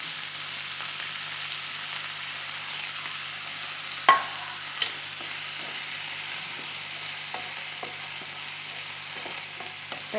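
Elephant foot yam stir-frying in a pan with onion and grated coconut, a steady fine sizzle holding evenly throughout, with a sharp utensil tap near the middle and faint scattered scrapes, close and without talk.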